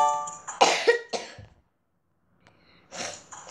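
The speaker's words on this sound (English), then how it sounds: "Sorry, I have a cough." A couple of harsh coughs close to the mic, then a brief silence and another rough cough-like burst.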